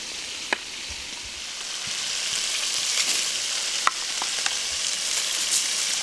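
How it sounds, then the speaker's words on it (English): Fatty beef sizzles and crackles steadily in a hot pan, with occasional sharp pops and spatters over the constant frying hiss. "You can practically hear it sizzling with flavor."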